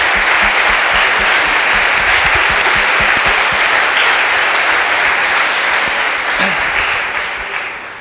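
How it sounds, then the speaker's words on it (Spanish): Audience at a regional students' conference breaks into sustained applause, dense and loud throughout, thinning slightly as it fades out in the last second. "que pido un aplauso, por favor."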